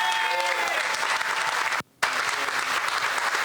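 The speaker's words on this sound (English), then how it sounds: "Give a round of applause" Outdoor crowd at a community unity parade claps and cheers in a steady wash of applause, broken by a brief dropout near the middle before resuming at similar strength.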